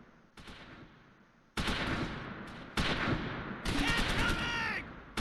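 Gunfire in the WWII tactics video game Close Combat V, loud bursts of rifle and machine-gun fire with sharp onsets, overlapping shots and a brief voice line among the battle noise.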